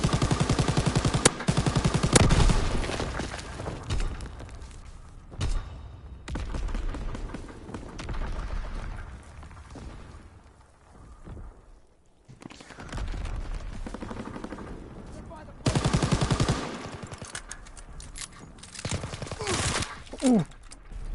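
Gunfire in the video game Call of Duty WWII, with bursts of rapid shots and booming blasts that come and go over several stretches, mixed with in-game voices giving orders.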